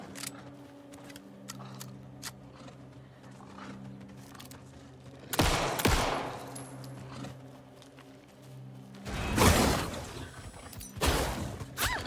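Gunshots from a firearm in the survival horror game Alan Wake 2, fired as loud broadband blasts at intervals: one near the middle and a heavier cluster toward the end, over a low droning ambient background.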